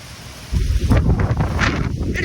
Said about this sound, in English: It is pouring right here.